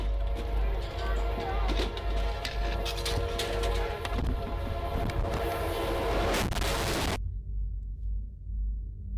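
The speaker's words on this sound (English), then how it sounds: "Oh, that train's coming." An approaching train rumbles loudly and steadily for about seven seconds with a horn-like tonal layer and some clatter, under faint talk, then cuts off abruptly to near silence.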